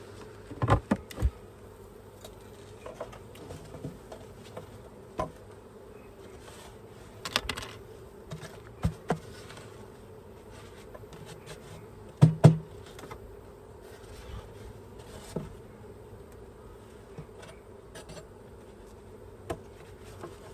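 Honeybees buzz around an open hive, a faint, steady hum that holds throughout, with scattered close knocks and taps from handling the hive.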